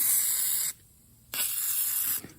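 Two short bursts of WD-40 spray hiss onto aluminium before milling on a Cincinnati horizontal milling machine, close and crisp with a brief pause between them and no talk.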